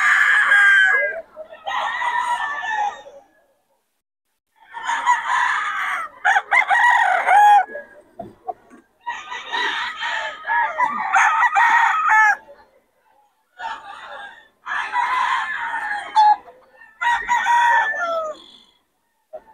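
Bullstag rooster at the Bocaue market, crowing in a series of loud, close calls separated by short pauses, with brief clucks among them and no talk.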